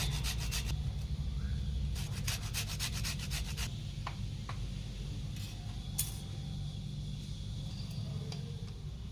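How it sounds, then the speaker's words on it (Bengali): A vegetable peel is grated for veg momo filling in a home kitchen, producing quiet, steady rasping strokes in rapid bursts separated by pauses, heard alone without talk. "পেছনের খোসাটা একটু গ্রেট করে দেব"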